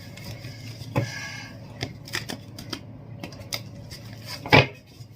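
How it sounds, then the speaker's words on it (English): A tarot card deck is shuffled by hand at close range, giving scattered dry clicks and taps with a sharper snap near the end, over a quiet background. "You're seeing me shuffle live, right? So I'm shuffling in one direction"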